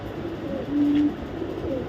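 Soft, low cooing from super mili racer baby pigeons, a brief steady murmur of a second or two in a loft.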